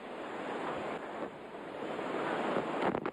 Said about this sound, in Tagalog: Walang pinipili ang nagngangalit na hangin.